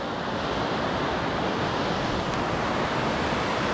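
River water rushing near a small waterfall on a nature trip in Taiwan: a loud, steady, broadband roar of flowing water, close and uninterrupted, with no voices.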